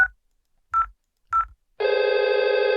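Three short touch-tone beeps from an IP phone dialing a call in Cisco Packet Tracer, then a steady ringback tone starts and holds, clean and loud with no voices.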